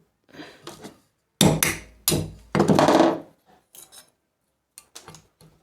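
Bamboo being cut along its four sides to shape a pen, heard as a series of sharp, close wooden knocks and scraping cuts in irregular bursts with short pauses between them.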